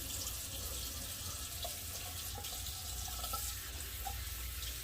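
A bathroom tap runs steadily as someone washes their face, making a continuous hiss of flowing water with a few small splashes and drips, close and at an even level, with no one speaking.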